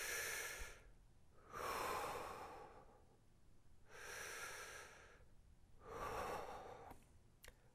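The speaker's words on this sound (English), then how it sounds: "And here's chest breathing." Chest breathing, close and breathy, four strong inhale-exhale cycles in a steady rhythm with short silences between, ending in a faint click.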